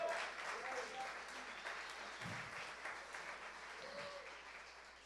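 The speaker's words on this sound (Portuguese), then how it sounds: "Isso merece um grito, um júbilo, um aplauso, alguma coisa." A church congregation applauds, a faint, steady wash of distant clapping that holds for several seconds and slowly tapers, with a murmur of voices underneath.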